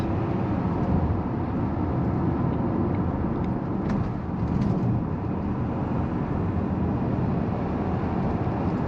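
Kia Sorento 2.2 diesel accelerating smoothly, captured from inside as a constant broadband road and engine roar that holds a steady level throughout.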